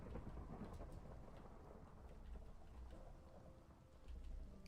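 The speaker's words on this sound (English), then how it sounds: "Thunder?" A Minecraft thunderstorm with steady rain hisses continuously and very faintly, with low rumbling thunder underneath and no voices.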